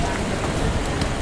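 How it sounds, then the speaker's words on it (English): Rain falls steadily in Paris, a dense close hiss of drops hitting surfaces, continuous and fairly loud for a brief moment. "What a shame that it's raining today."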